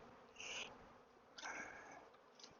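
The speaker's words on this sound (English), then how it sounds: "Not very many bees." Honey bees buzz close by in a soft, steady drone at an open insulated hive, with a couple of louder passes as individual insects fly near.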